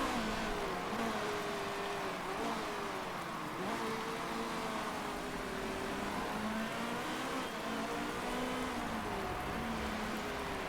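Race car engines in the Motorsport Manager racing game, a steady drone of several cars with whining pitches that rise and fall as they pass, continuous and fairly distant with no talk.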